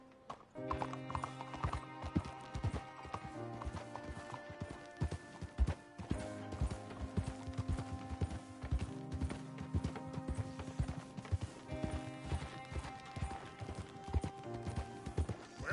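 Horse hooves clip-clopping in the video game Red Dead Redemption 2, a steady brisk rhythm of close hoofbeats over tonal background music, with a neigh.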